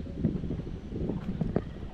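Strong, cold wind blowing outdoors on a trip to check fish traps, buffeting the microphone with a steady, close low rumble and small gusts throughout.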